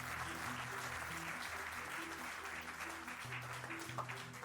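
Audience applause at an event honouring Padma Shri awardee Chutni Mahto, a dense steady clapping that fills the whole stretch at moderate level, with faint background voices beneath.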